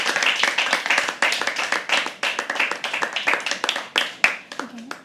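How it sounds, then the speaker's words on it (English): An audience at a live poetry open mic claps steadily with brisk, uneven handclaps that swell and fade over several seconds, mixed with some voices in the crowd. "Keep clapping, keep clapping."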